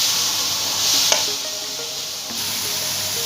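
Vegetables stir-frying in a pan with black pepper and salt give a continuous close sizzle with soft stirring scrapes and light clinks; nobody speaks.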